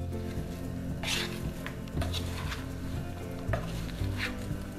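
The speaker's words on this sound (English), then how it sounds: "mix all the onions and the celery together" A spoon stirring chopped onions and celery together in a bowl for potato salad, with soft wet mixing and a few louder knocks and scrapes at a steady pace, close by and without talking.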